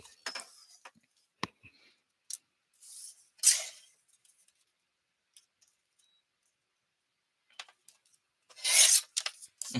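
A paper trimmer cuts paper during mini book crafting, producing short scraping rasps and clicks in a quiet room, with two louder slicing strokes.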